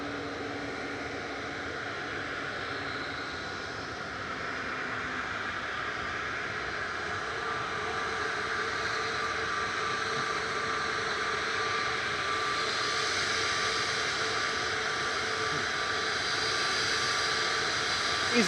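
Ryanair jet airliner climbing away after takeoff at Manchester Airport, a steady broad distant roar that slowly swells over many seconds, heard alone without talk.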